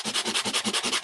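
A light nail-style sanding block rubbed over a surface to sand away the top layer and expose a white core, heard as close, quick, even back-and-forth scratchy strokes at a steady rhythm, about nine strokes in a second.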